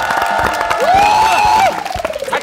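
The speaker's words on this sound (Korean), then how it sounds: "박수로 환영해 주시기 바라겠습니다" A studio audience at a jokgu tryout event breaks into cheering and applause, with whoops and raised voices rising over a dense crowd roar before it eases off.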